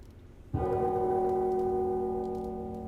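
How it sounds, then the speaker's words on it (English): A struck metal object in Neverwinter Nights 2 rings like a tolling bell: one sharp hit followed by a sustained, slowly decaying metallic hum. "Listen, when I strike it, it's like the tolling of a bell."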